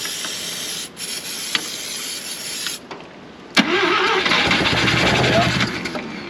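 An old Mazda RX-4 race car that had sat neglected is cranked and fires up, with short bursts and clicks before the engine catches and runs with a loud, hissy roar close by.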